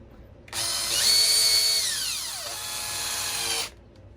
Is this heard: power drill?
yes